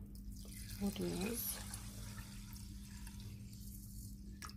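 Water poured from a tap over rinsed sushi rice in a kitchen bowl, a brief splashing run of liquid near the start, then a steady low hum as someone talks over it.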